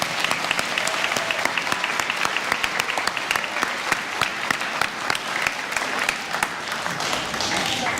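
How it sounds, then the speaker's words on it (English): A school audience claps steadily for students' performance, a dense, sustained round of applause that holds at even strength for several seconds with no one speaking. "I think you deserve a nice round of applause."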